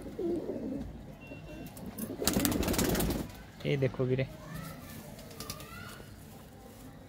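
Pigeons of a prized breed, including pearl-eyed birds at a Ludhiana sale, coo in low throaty bursts, near and clear, with a brief flutter of wings and someone speaking over them.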